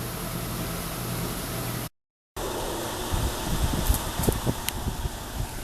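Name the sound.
air conditioner outdoor unit fan running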